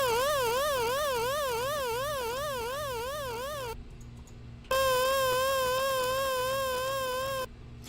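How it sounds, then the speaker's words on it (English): An 8-bit FamiSynth tone carries a triangle modulation that wobbles only upward in a rapid, regular zigzag. It plays loud and buzzy in two sustained phrases separated by a brief drop in level. "Now, this mod wave is going to sound different again."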